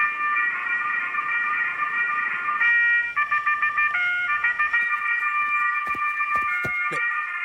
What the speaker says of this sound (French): Mais c'est mon réveil!